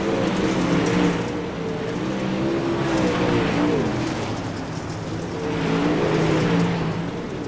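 Super late model race cars roar around a dirt track in a continuous loud engine drone that swells and fades as the cars pass, with no voices heard.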